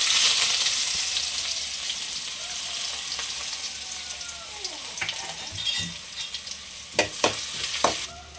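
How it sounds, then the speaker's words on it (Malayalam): Mustard seeds sizzle in hot oil in a pan, a close steady frying hiss that fades slightly, then sharp popping crackles and scraping stirs toward the end. "എണ്ണ ചൂടായിട്ടുണ്ട് കടുക് ഇട്ട് കൊടുക്കാം"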